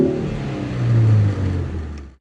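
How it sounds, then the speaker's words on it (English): A Ford Focus hot hatch revs, its exhaust note swelling to a loud, steady drone before easing off and cutting out near the end; no voices are heard. "I have to point out the car's exhaust note, which is pretty cool"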